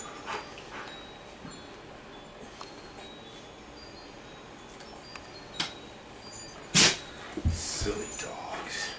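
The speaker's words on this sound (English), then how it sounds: "Silly dogs." Dogs indoors give faint whimpers and short yips against a quiet room, with a louder sharp yelp near the end and a person speaking softly.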